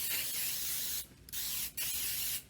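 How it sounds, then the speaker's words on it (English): Baking spray hisses from a can onto a pan in a home kitchen, three bursts: a long spray, a shorter one, then another long one, each with a brief pause between them and no talk. "Make sure you spray your pan so it comes out."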